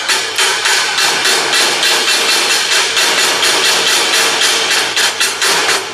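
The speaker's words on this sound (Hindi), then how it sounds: "इस पर अगर हम इस प्रकार इसे मारते हैं तो देखिए क्या हो रहा है, इसके ऊपर जो स्लैग है वह हट रहा है" A chipping hammer striking welded metal to knock off slag, heard as loud, close, rapid metallic blows in a steady rhythm, repeated throughout without pause and with no talk.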